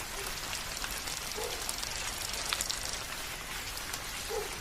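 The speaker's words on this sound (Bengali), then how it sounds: "আচমকা অমন বৃষ্টি শুরু হয়ে যাবে কে জানতো" A sudden rain shower falls in a Bengali horror cartoon, a steady soft hiss of dense drops hitting surfaces, fairly quiet and unbroken, with no voices.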